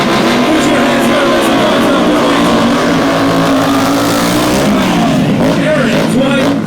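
Indian Scout motorcycles roar around a track at a Sturgis Rally thrill show, their engines loud and sustained with a shifting, rising pitch as they slide through a corner, an announcer's voice faintly under the noise.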